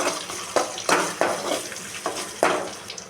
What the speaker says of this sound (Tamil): பூண்டு கலர் சேஞ்ச் ஆகுற வரைக்கும் வதக்கி விடுங்க.